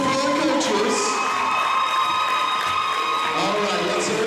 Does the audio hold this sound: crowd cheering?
yes